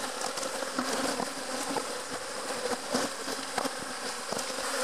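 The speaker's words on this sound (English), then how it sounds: "I think I'm gonna have to do that far away from the hive because there's just way too many bees." Honey bees swarm around an open beehive during a hive split, making a dense, continuous buzzing drone close at hand with individual bees droning past, and no voices.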